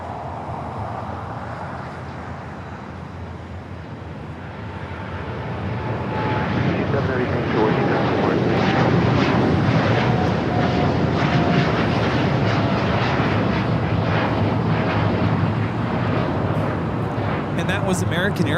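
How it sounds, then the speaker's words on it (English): An American Airlines Boeing 787-9 Dreamliner takes off at a busy airport, its jet engines swelling from a distant whine into a loud sustained roar, with voices talking over it. "American Airlines Flight 27 taking off to Tokyo Haneda on the 787-9 Dreamliner"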